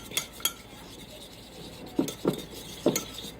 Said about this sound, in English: You just give it a good little stir.